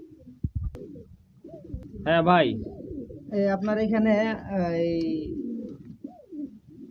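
Pigeons kept for sale, including female birds, coo softly nearby while someone talks over them in a close, indoor setting.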